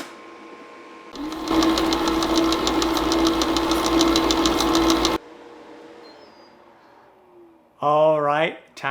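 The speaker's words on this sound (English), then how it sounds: "I'm going to turn this on and I'm going to hit the sorbet button" A countertop sorbet maker churns orange sorbet, its loud motor whirring and knocking rhythmically for about four seconds before it stops. A voice follows near the end.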